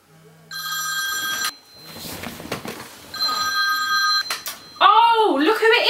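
Telephone bell rings in repeated bursts of a bright, trilling tone, loud and close, alternating with stretches of people talking and shouting.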